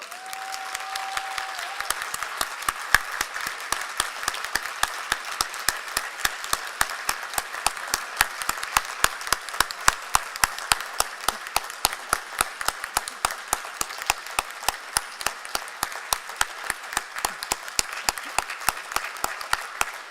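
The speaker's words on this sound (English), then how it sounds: "please stand and be applauded by your family, your friends, and your faculty members until our hands are tired" A crowd of family, friends and faculty applauds students being pinned at a Governors State ceremony, with dense, steady clapping that carries on unbroken for about twenty seconds.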